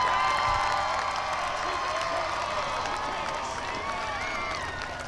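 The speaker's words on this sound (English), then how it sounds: "Ladies and gentlemen, a big round of applause for Old Glory and the Stars and" Crowd applause and scattered cheers for parachutists at a City of Greer outdoor event, heard beneath a prominent tonal music track and announcer-style sound, moderately loud and continuous.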